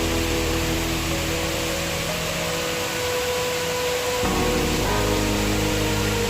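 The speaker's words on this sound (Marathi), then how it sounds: "किती जोराचा पाऊस चालू झालेला आहे आमच्या इथं" Heavy monsoon rain pours down outdoors as a dense, steady roaring hiss that never lets up, with no voices over it.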